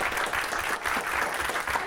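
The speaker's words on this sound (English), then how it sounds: "Give yourself a round of applause." A studio audience claps steadily in a dense, even round of applause, moderately loud and close, with no voices over it.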